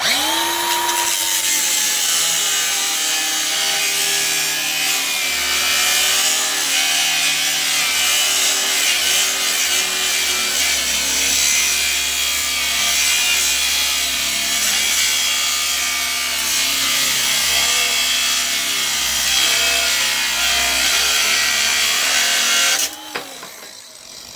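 A loud Redmax GZ7100 chainsaw fitted with an experimental chain cuts steadily through wood up close, its rough, buzzing whine continuous for a long stretch before abruptly dropping off at the end.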